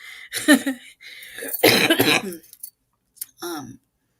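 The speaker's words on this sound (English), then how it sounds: "I had a coughing spell." A person coughing in several harsh bursts close up, with short pauses between fits and a final cough after a brief silence.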